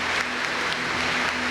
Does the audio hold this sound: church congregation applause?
yes